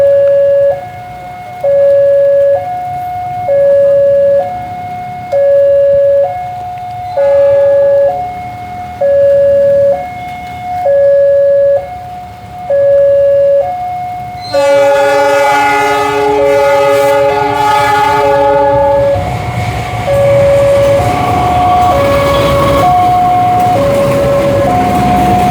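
A train sounds its horn in repeated two-tone blasts while approaching the Semarang Tawang level crossing, then roars past loudly with rumbling wheels and a sustained horn chord, the blasts continuing as it clears the crossing.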